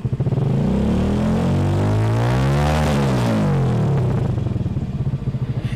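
Engine of a homemade sports car, a loud, steady pulsing roar up close that rises in pitch toward the middle and then falls again, with no voices.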